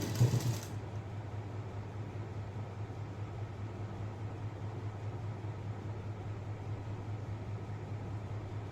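A sewing machine stitches a blouse, its steady mechanical whir and rapid needle patter running evenly and close after a brief louder opening burst, with no voices.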